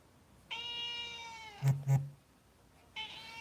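A cat lets out two loud, drawn-out meows close to the microphone, separated by a pause with a couple of soft thumps, the second meow starting near the end.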